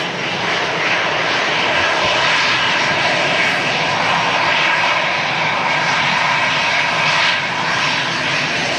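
An EasyJet airliner's jet engines at Manchester Airport, a loud, steady broadband roar that holds constant throughout with no pauses.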